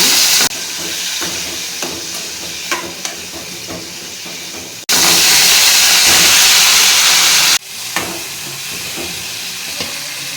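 Tomatoes fry in hot oil with asafoetida and lentils, giving a loud, continuous sizzle and hiss. The sound swells into a louder burst midway and is broken by brief stirring knocks.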